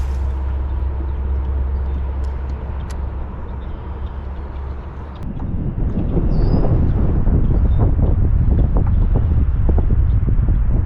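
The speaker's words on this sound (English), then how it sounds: "We actually need that wind so we can get pushed in there a little bit." Wind blows over open water around a fishing boat, first as a low rumbling buffet on the microphone, then as louder rough gusting with splashy, choppy texture.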